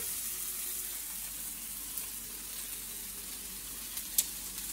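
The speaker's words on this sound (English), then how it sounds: "You don't want your burgers to cook too fast in the pot" Homemade burgers sizzle steadily in a pot, a continuous, close frying hiss with a couple of faint clicks near the end and no speech.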